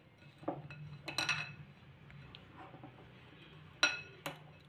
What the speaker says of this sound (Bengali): কিশমিশটাও ভালো করে মিশিয়ে নেবো এর সাথে।